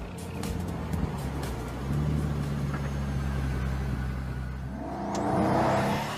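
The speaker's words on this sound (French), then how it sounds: "Tandis que le nouveau bolide s'élance comme une fusée sur la grande ligne droite" A Pagani Huayra sports car accelerates hard down a long straight, its engine drone steady and strong, then building and rising in pitch near the end, with no voices.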